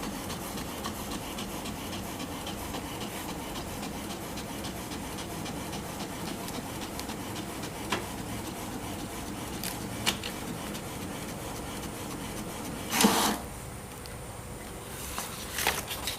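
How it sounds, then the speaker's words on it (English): HP Deskjet Ink Advantage 3636 all-in-one printer printing, a quiet continuous mechanical rubbing and whirring with a few brief clicks and a short sharp burst of paper feed noise. "the printing has been started"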